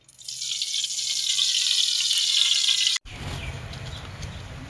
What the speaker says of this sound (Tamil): இப்போ நம்ம எண்ணெய் ஊற்றிக்கலாம்.